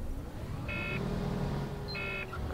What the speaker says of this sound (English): The alarm, the spaceship sounds.